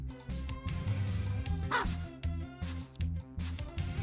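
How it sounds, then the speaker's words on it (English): A dog in the video game Cassette Beasts gives a few short yipping barks over looping game music, close and moderately loud, with no talk. "It's a friendly dog!"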